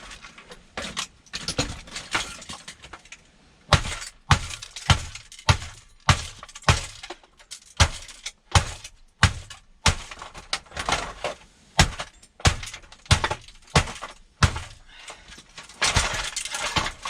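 Scrap electronics are being smashed, with sharp repeated cracks and breaking glass arriving in irregular bursts, loud and close, with brief quiet gaps between impacts and no one talking.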